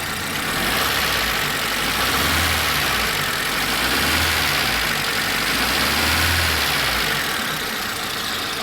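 A Proton Wira's Mitsubishi 4G15 single overhead cam 12-valve 1.5 litre four-cylinder engine idles steadily and close by, a continuous low rumble with a faint rhythmic lope.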